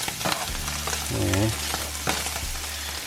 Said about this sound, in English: You can hear the sizzling of it